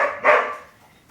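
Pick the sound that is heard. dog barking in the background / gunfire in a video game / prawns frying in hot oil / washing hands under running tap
dog barking in the background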